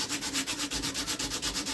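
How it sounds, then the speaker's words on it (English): Wood of a double-barrel shotgun stock is sanded by hand in steady back-and-forth strokes, about a dozen even rasping passes close up, with no talking. "It's going to take a little time to do it because a lot of this is hand sanding."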